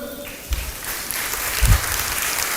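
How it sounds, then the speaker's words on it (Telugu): A church congregation claps together during a sermon, a steady crackling patter with a couple of louder bursts, continuous through the short stretch. "చప్పట్లు కొట్టండి అందరూ"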